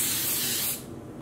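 A close, loud hiss of Wilton Color Mist food coloring spray from an aerosol can, sprayed onto yarn, lasts under a second, then cuts off, leaving quiet background.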